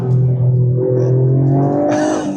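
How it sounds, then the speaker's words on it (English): A Toyota GR Yaris engine drones loudly up close, and near the end its revs rise in a quick blip as it downshifts with rev matching. "click it, and now listen to these downshifts"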